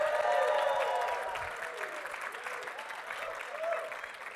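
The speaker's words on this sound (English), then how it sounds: "let's hear a big cheer for storytelling" A room full of audience members cheers and applauds at a storytelling event, a loud burst of clapping and shouts that gradually eases into lighter, scattered cheering.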